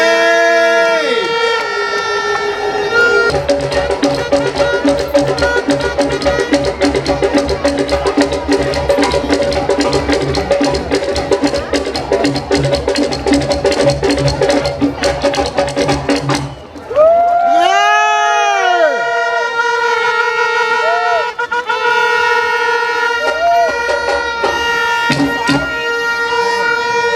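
A crowd at an outdoor stage show at a Jamaican August Morning event cheers, whoops and shouts over loud music for a band on stage, with piercing whistles and excited voices throughout.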